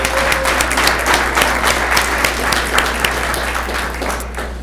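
A school board meeting audience applauds for the parents of a junior varsity cheerleading team, a steady wash of many hands clapping together for several seconds, fairly close and loud, gradually thinning toward the end with no talking.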